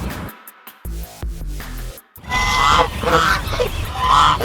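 Ducks on Rajghat Lake in Delhi honk and call repeatedly, with a burst of several birds near the start and a noisier chorus of quacking calls afterward.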